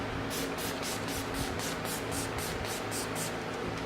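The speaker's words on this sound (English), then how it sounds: "To set our face with the All Nighter Spray by Urban Decay." A rapid series of short, soft bursts of Urban Decay All Nighter setting spray hisses close by, about a dozen quick pumps in an even rhythm.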